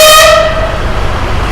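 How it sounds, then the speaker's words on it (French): A truck horn blasts loud and close at the start, cutting off after a fraction of a second, and an engine keeps rumbling in the open air. "Vas-y, mets un petit coup de klaxon devant la boulangerie"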